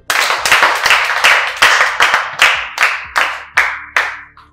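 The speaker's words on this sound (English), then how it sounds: "Clap for him." A classroom of students clapping in unison: about a dozen loud, sharp group claps in a steady rhythmic beat, each ringing briefly before the next.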